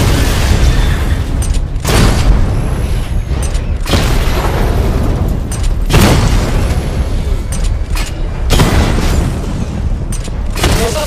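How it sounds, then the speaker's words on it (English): Missile barrage explosions in the Batman: Arkham Knight game on PS4, heavy booming blasts recurring roughly every two seconds over a continuous mechanical rumble, loud and close. "Destroy targets to charge up weapon energy and activate missile barrage."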